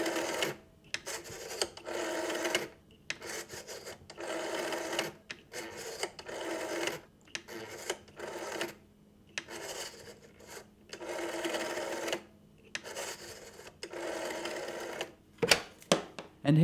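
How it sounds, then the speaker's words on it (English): An old rotary telephone being dialed, with repeated whirring, ratcheting bursts as the dial spins back, separated by short pauses, fairly close and steady with no voices. "you reel it all the way around until your finger touches that metal part there"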